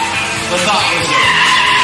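An Oldsmobile race car launches hard out of starting gate number 2 with a loud, sustained roar of engine and screeching tires that builds over two seconds, while a voice talks over it.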